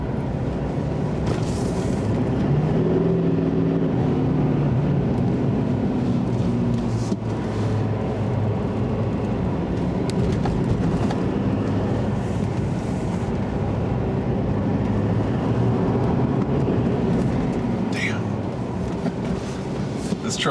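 A 2020 Chevy Silverado 2500 HD Duramax LTZ Plus diesel pickup labors up a steep hill, its engine droning loud and steady throughout with a deep, sustained low rumble, heard from inside the cab.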